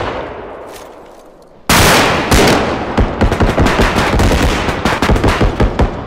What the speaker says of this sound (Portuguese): O barulho de tiro tá muito realista.